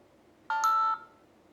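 A brief two-part electronic tone from a eufy security device chirps once as it syncs, a quick rising pair of notes, clear against quiet room noise.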